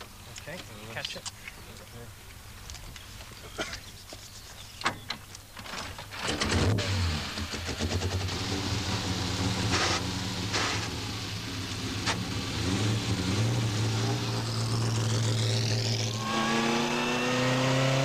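A supercharged Bugatti Type 51 Grand Prix car starts quietly, then its engine surges into a loud, sustained rising roar as it drives, the pitch climbing and holding near and strong.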